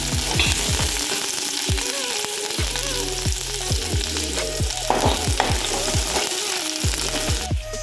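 Loud, close sizzling of onions frying in hot mustard oil in a wok, with repeated clanks and scrapes of stirring throughout.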